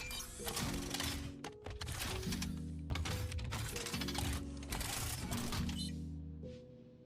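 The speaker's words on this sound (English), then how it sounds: "anyone who does not know how long this fucking machine gun takes to reload, I will show you right now" The Sheila machine gun reloading in Apex Legends: a long run of clanking metallic clicks, thunks and rattles in bursts with short gaps, loud and close, with no talk.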